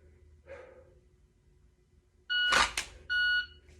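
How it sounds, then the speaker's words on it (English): Two short, sharp electronic beeps from a shot timer for handgun draw practice sound in quick succession after a soft breath, loud and close against a quiet background. "the stimulus is an auditory beep"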